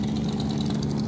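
A small launch boat engine idles at Sadarghat terminal in Dhaka, a steady continuous low rumble with an even drone and faint higher mechanical whine, no talk.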